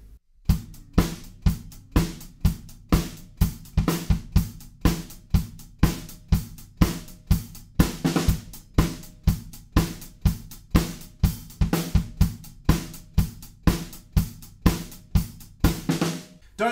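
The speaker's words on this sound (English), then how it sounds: "when the main groove comes in for the drums, it sounds like this." A drum kit plays the main groove of a song, a steady, close, punchy pattern of regular kick and snare hits with hi-hats running through, repeating evenly throughout without any talking.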